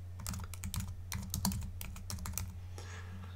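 Rapid typing on a computer keyboard, a close, steady burst of key clicks that slows and fades near the end, with no voice.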